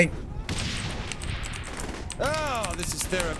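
Rapid bursts of gunfire in Saints Row: The Third Remastered crackle through the clip, with a voice speaking over the shooting and some whooshing effects near the end.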